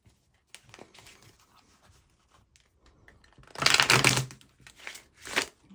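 Tarot and oracle cards being shuffled, starting with faint scattered taps and rustles, then two loud riffling bursts near the end, close up with no speech.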